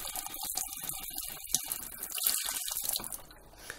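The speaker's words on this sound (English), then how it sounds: "To clean the filter, run it under the cold tap until the water runs clean." A cold kitchen tap runs steadily over a Dyson stick vacuum filter being rinsed, with splashing and gurgling water that shifts as the filter moves under the stream.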